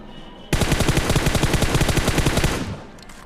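Sustained automatic gunfire from the video game PUBG, a loud rapid burst of evenly spaced shots lasting about two seconds before cutting off, with quieter game ambience before and after.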